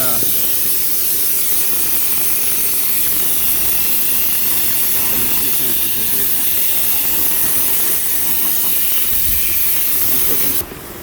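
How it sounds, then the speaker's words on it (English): Power steering fluid being vacuumed out of the reservoir on a 2002 GMC 3500 HD: a loud, constant airy hiss and suction roar that runs unbroken for about ten seconds, then cuts off abruptly. "This is what we're gonna use to vacuum. Get all the power steering fluid."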